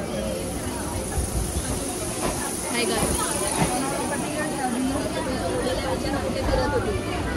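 The interior of a moving train in India: a steady, dense rumble and rattle fills the carriage while people talk close by.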